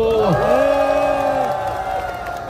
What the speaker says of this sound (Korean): 이분들께 격려하는 박수 한번 보내주세요.